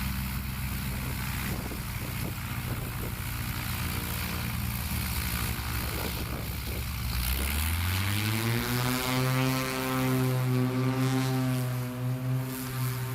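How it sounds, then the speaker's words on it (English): An AL-19 Super Legend light aircraft taxis by at a STOL practice event, its propeller engine droning steadily and swelling into a louder, rising tone as it passes close. "in that Legend aircraft, AL-19 Super Legend, taxiing by right now"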